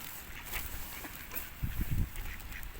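Ducks being fed grain outdoors in cold weather give a few short, raspy quacks near the middle, rising over a steady background of rustling and low noise.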